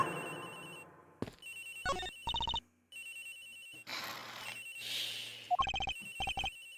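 A cell phone rings in the Ace Attorney Investigations video game, a melodic electronic ringtone repeating in short bursts with brief gaps, clear and prominent over a faint background, with no talking.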